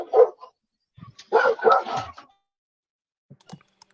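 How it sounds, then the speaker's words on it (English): Dogs bark in the background in short bursts, a quick volley of sharp barks followed by a pause and a few fainter, distant yips, with no talk over them. "Oh yeah, the dogs are going crazy behind."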